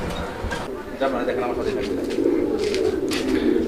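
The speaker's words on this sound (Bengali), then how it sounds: "এটা হচ্ছে মূলত একটা রেসার কবুতর" Racer pigeon cooing close by in a steady low murmur, with soft fluttering and a voice talking over it.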